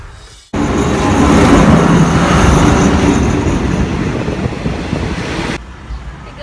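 A train in Thailand rumbles steadily for several seconds, broadband roar with clatter, close and loud, then cuts off abruptly.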